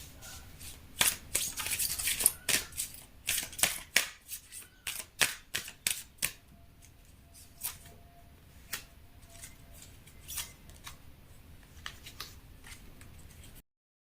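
Tarot cards handled and drawn from a deck, a quick series of crisp snapping and flicking card sounds up close, dense at first and then sparser, with no talking.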